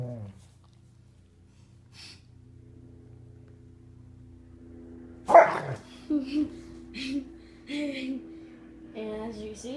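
A Doberman makes a series of short, rumbling growl-bark bursts that mimic a revving car engine. They come after a quiet stretch with a faint low hum underneath.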